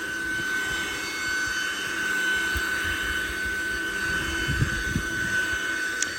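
A backpack leaf blower runs steadily outdoors, a continuous airy roar with a sustained whine, blowing piles of leaves across a lawn, with occasional small bumps in level.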